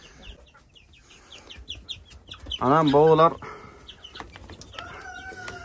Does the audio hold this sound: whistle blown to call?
no